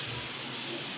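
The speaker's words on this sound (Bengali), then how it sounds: "এই যে ফোড়নে দিয়ে দিলাম ডালটা" Pea dal tipped into hot tempering spices in a pan gives a steady, dense sizzle and hiss lasting about a second, close and even, with no talk.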